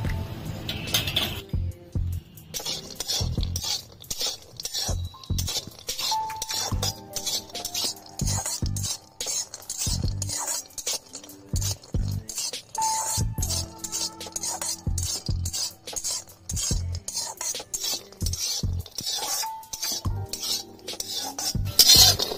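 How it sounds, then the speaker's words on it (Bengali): Metal utensils scrape and clink steadily against a pan as cashews and raisins fry in ghee, with a faint sizzle underneath and no talking. "দিয়ে দিলাম কাজু বাদাম কিশমিশ, ভেজে নেব অল্প করে।"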